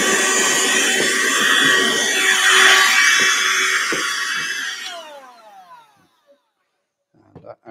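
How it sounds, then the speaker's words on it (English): A vacuum cleaner whines loudly and steadily while cleaning debris off a model railway layout, then spins down with a falling pitch into silence, followed by a few faint clicks and handling sounds. "I think the only noise we're going to have tonight is from the old trusty vacuum cleaner."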